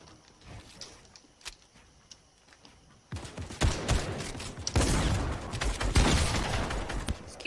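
Gunfire in Fortnite: scattered single shots at first, then loud bursts of rapid automatic fire and impacts come in close, continuing in heavy volleys to the end.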